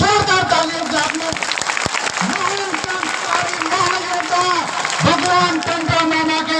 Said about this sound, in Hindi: जोरदार तालियों से आपने